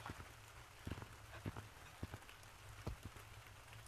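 Rain falls in the virtual reality game Gorilla Tag, a steady close patter of drops with scattered sharper taps against surfaces, continuous and fairly quiet throughout with no talk.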